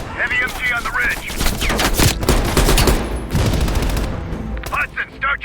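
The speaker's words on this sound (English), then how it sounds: "Heavy MG on the ridge" Heavy machine gun fire in Call of Duty: Black Ops Cold War, dense rapid bursts ringing out loud and close for several seconds amid battle noise, easing off near the end.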